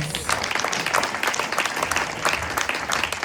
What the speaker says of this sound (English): Oh, give that a round of applause.